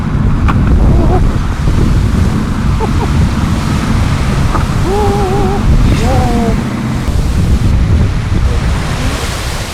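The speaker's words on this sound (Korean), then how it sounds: "높이 3m의 큰 파도가 일었다." Heavy surf and rough sea churn loudly and continuously around a yacht in a storm, with about 3-metre waves and strong wind noise battering the microphone throughout.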